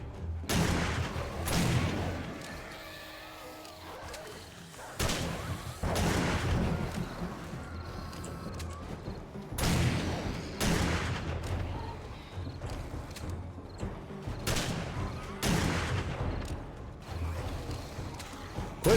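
Shotgun blasts boom in a video game, roughly a dozen heavy close shots fired at irregular intervals with mechanical reload clacks between them.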